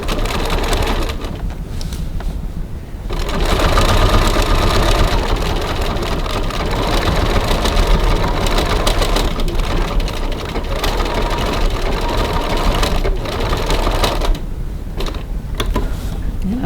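A sewing machine stitching across a bag pocket, running in a steady mechanical whir with rapid needle clatter, loud and close, pausing briefly near the start and again near the end.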